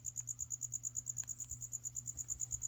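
Feeder crickets chirp close by in a quiet night-time room, producing a fast, regular series of high, evenly spaced chirps with a faint low hum underneath.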